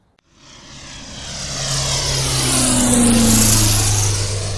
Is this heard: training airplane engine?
yes